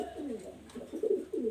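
A pigeon gives a run of throaty, rolling coos up close, pulsing in short waves with a louder burst near the end.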